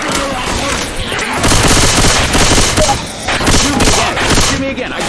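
Rapid, continuous gunfire from the video game Left 4 Dead 2, loud and dense bursts of automatic shooting filling the whole stretch with heavy booming impacts throughout.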